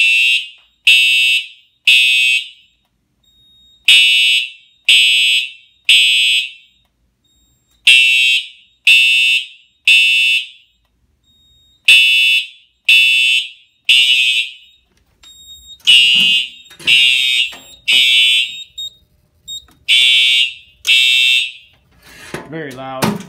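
Fire alarm system test with Gentex and TrueAlert notification appliances, loud repeating high electronic horn blasts in groups of three with short gaps, a second unsynced pattern joining partway through.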